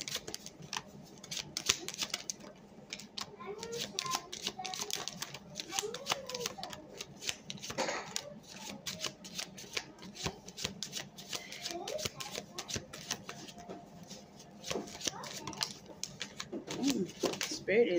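A deck of tarot cards is shuffled by hand over and over, giving a busy, crisp riffling and flicking close by. A soft voice murmurs underneath at times.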